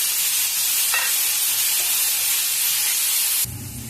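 Chopped tomatoes tipped into a hot pan of potato curry sizzle loudly with a steady hissing fry, with a brief stir partway through before the sizzle drops off sharply near the end.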